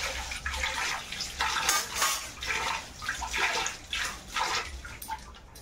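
Water runs and splashes while a wok (kadai) is washed in a kitchen sink, with repeated bursts of gushing and sloshing and faint clinks of metal, close and steady.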